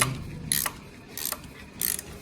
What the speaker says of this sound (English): where we're doing it right now, where we're tightening the bolt, but not the one at the back, only the front.